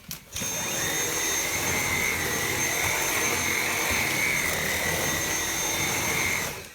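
A Dyson V7 Motorhead cordless vacuum runs on its normal setting over carpet, starting with a click and then holding a steady high-pitched whine and airy rush up close before it switches off.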